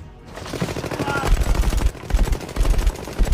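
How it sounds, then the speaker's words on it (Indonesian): Rapid bursts of automatic gunfire crackle through a film shootout between gangsters and a police team, coming in repeated volleys over a busy, loud soundtrack. "datanglah para preman yang langsung menembaki tim Sersan Jaka."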